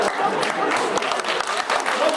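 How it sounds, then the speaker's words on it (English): An audience at a comedy show applauds in a dense, steady patter of clapping that fills the short moment, close and lively, with a voice speaking over it. "Don't clap for that."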